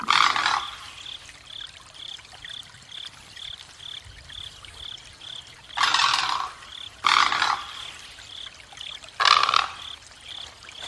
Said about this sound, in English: A very interesting sound, a croak or a growl or something like that.